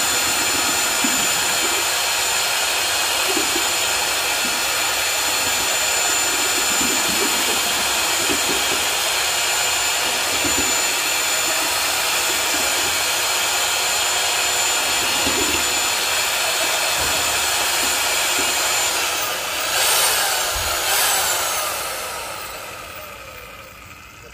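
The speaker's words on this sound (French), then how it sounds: "Mixer à basse vitesse" An electric paddle mixer stirs epoxy for a floor installation at low speed, a steady, loud whirring drone that holds for about twenty seconds and then winds down.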